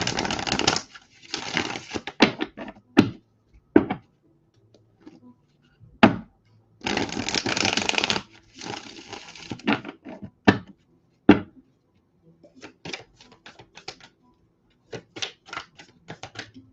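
Tarot cards being shuffled and handled up close, in bursts of riffling and flicking separated by quiet gaps and a few sharp taps on a surface.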